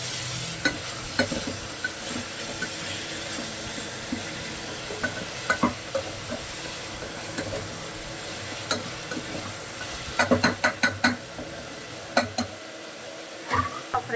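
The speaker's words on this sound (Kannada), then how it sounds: "ಫ್ರೈ ಆಗ್ತಾ ಇದೆ" Onions, cinnamon and cloves fry in peanut oil for rice bath, with a constant close sizzle and scattered spatula clicks and scrapes that cluster into quick bursts toward the end.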